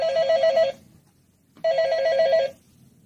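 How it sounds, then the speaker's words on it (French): A telephone bell rings loud and close in two bursts of rapid trilling, separated by a short silence; it comes from a children's musical sound book. "Téléphone."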